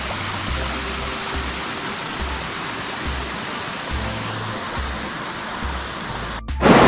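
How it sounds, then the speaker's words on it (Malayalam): Clear water flows steadily in a stream near a resort farmstay, a constant close rushing wash with small gurgles, running alone without voices until a brief knock near the end. "നല്ല ഒരു ഒഴുക്കുള്ള വെള്ളം അങ്ങനെയൊക്കെ ഉണ്ട്"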